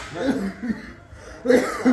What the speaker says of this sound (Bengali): কাশি উঠে গেছে।